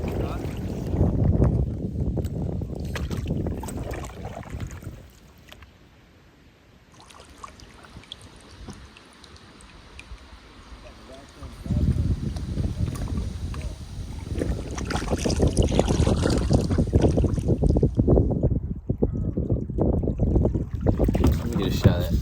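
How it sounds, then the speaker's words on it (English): Canoe paddling on a lake or river in Michigan, with paddle strokes and water swishing under wind noise on the microphone. People talk nearby between stretches of quieter water sound. "I'm paddling here."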